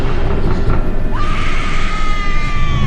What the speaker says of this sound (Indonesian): juga diiringi suara teriakan perempuan yang histeris, ketakutan, kesakitan, seakan tersiksa dan memaksa untuk keluar